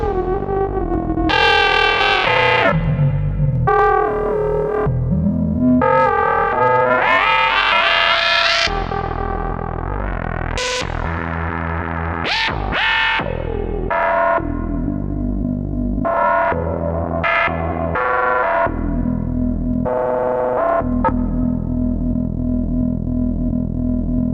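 A Eurorack modular synth in which one function generator sweeps the filter and another modulates the oscillator's pulse width. It yields gritty, distorted, shifting tones with changing pitches and bursts, playing continuously without any voice.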